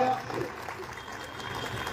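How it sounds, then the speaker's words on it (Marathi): Audience applause at a Republic Day lecture gathering, a dense, steady patter of many hands clapping that fills the full two seconds at moderate, even loudness, with a faint voice mixed in underneath. "त्यांचंही जोरदार टाळ्या वाजवून आपण अभिनंदन करूया"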